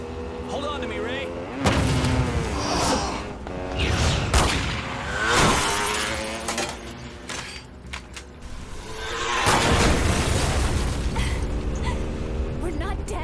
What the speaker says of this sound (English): Why are these maniacs shooting at us?